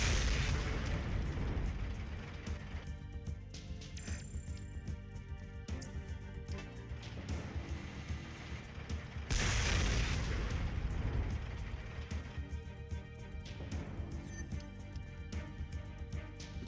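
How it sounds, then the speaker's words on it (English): Cannon fire in the video game Front Mission 4: heavy broadband booms burst out at the start and again midway, amid a dense, noisy battle soundscape. "Thankfully, cannons in this only attack the once"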